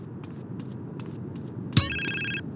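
A phone rings in the game GTA San Andreas, a short electronic tone burst that follows a sharp click, over a low ambient bed of game sound.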